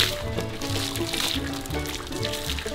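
Water poured during bun parotta making in a busy open-air kitchen, a short splashing pour under steady cooking clatter and background noise, with no clear talk.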